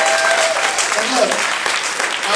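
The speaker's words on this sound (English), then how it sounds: "that's worth clapping right there" An outdoor crowd at a Labor Day BBQ claps steadily in dense, sustained applause, with a few voices and whoops mixed in.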